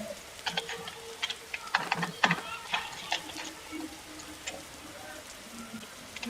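Rain falls in the forest survival game 99 Nights in the Forest, a faint, scattered patter of soft crackles and ticks over a quiet background.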